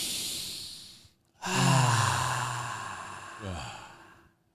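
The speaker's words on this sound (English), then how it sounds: "Have a team breath." Several people take a long, deep breath together, a close breathy inhale followed by a slow audible sigh and a second shorter exhale.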